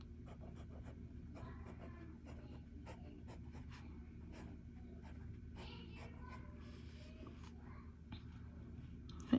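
Nib of a Leonardo Momento Magico fountain pen in emerald gold scratching across paper, a quiet run of short strokes with brief pauses, close up over a steady low hum.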